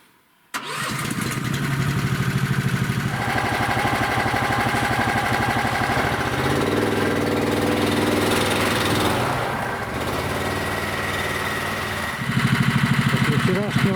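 A small engine on a motorized snow tow (mototolkach) fires up abruptly, then runs loud and close with a buzzing, steady drone that shifts in pitch as the throttle changes, out on a snowy forest trail.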